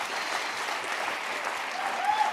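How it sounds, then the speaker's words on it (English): An audience applauds steadily at moderate volume, a continuous wash of clapping with no pauses. "Clap for that."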